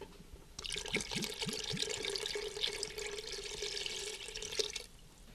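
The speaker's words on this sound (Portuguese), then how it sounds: "colocamos os 2 vidros de leite de coco e depois a mesma medida de água" Water pours steadily into a cooking pot for chicken moqueca after coconut milk, a bright continuous splashing stream lasting about four seconds, close and alone, then stopping.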